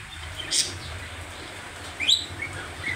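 A pet African lovebird in a home aviary gives a few short, high chirps, one near the start and a brighter cluster about two-thirds through, over a low steady room hum.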